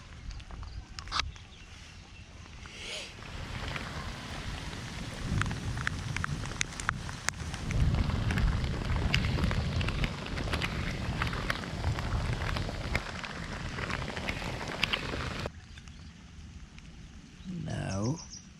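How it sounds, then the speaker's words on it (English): Rain falls steadily at Kannamangala Lake near Bengaluru, a soft continuous patter on rock and surfaces, swelling slightly in the middle, with a few brief clicks and a voice near the end. "Now the rain didn't stop at all. The rain continues."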